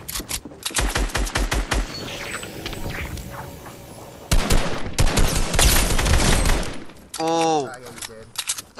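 Rapid bursts of video game gunfire and sniping, with dense volleys of shots, sharp single cracks and a squealing laser-like effect near the end, loud and close throughout.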